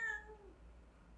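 A Norwegian Forest cat, a long-haired breed, gives a single short meow that trails off quickly, heard close and alone in a quiet room.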